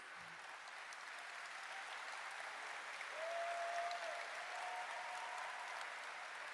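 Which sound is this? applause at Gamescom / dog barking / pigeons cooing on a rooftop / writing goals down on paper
applause at Gamescom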